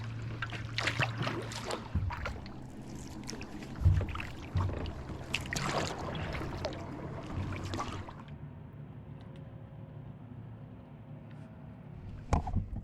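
Paddle strokes and water swish from a touring kayak gliding across flat water, a steady, moderately loud wash with irregular splashes and knocks, louder in the first eight seconds and then quieter and calmer.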